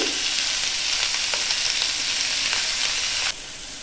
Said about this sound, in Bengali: টমেটো আর ক্যাপসিকামকে হালকা করে আমি ভেজে নেব।